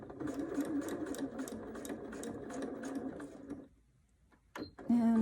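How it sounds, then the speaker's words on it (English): Sewing machine stitching a zipper pocket, a rapid rhythmic chatter of needle strokes running for about three and a half seconds, then stopping before a few clicks and handling noises close by. "So let's just sew this on."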